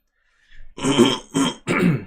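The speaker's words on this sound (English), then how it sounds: "my cough was seemingly gone today, and then it started up right before class" A person clears their throat and coughs, three harsh bursts in quick succession, close and fairly loud, with no other sound around them.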